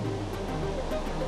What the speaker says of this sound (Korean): 파도 소리가 예사롭지 않습니다.